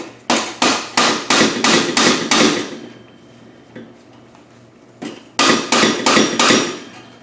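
A small 8-ounce sand-filled hammer taps sharply in two quick bursts of about seven even strikes each, close and loud, with a quiet pause between, while working on a VW GTI exhaust.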